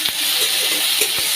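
Ginger-garlic paste hits hot oil in a pan with a steady, loud sizzle, broken by a few soft stirring scrapes.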